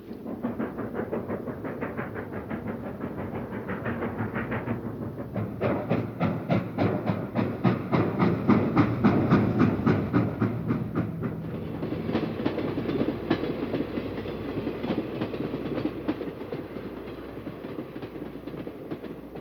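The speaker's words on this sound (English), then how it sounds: "Another K5 Pacific on a commuter at Walwick, New Jersey." A K5 Pacific steam locomotive pulling a commuter train rumbles past at Waldwick, New Jersey, continuously with rhythmic clanking and chuffing, loud and close throughout, no voices.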